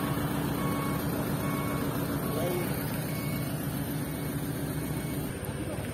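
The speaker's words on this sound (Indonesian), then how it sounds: "ada mobil dump truck yang keluar lagi teman-teman" Dump truck driving over extreme, rough terrain, a steady low engine rumble running throughout with faint reversing beeps, with people talking over it.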